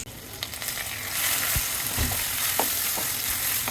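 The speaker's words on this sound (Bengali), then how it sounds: "তার জন্য আলু ভাজা হচ্ছে।" Potatoes frying for a chicken curry in a home kitchen pan, a steady close sizzle with occasional stirring scrapes and no talking.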